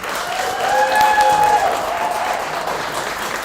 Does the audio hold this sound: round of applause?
yes